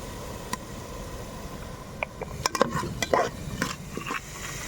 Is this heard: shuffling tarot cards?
no